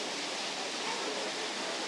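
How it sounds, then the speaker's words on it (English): A waterfall at Tivoli Gardens amusement park in Copenhagen gives off a steady, even hiss of rushing water, continuous and moderately loud with no breaks. "Got a waterfall here."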